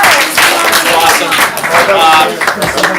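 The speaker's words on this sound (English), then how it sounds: "Give yourselves a round of applause for supporting our students" A crowd of audience members claps steadily in applause for students at a showcase, a dense continuous wash of hand claps with voices mixed in throughout.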